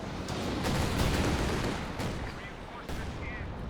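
An artillery barrage fires in the Company of Heroes 2 strategy game, with dense rumbling blasts and crackling impacts rolling together loudly for several seconds.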